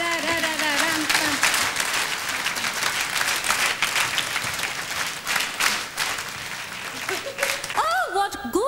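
An audience applauding, with clapping kept in time to a song's rhythm: dense, steady hand-clapping that holds throughout, then gives way to a voice at the end.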